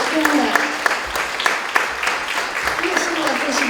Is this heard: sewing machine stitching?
no